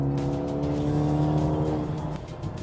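A 2021 Mercedes-AMG A 35 4MATIC with all-wheel drive accelerates hard, its engine note rising steadily as a loud, close, continuous roar that eases slightly near the end.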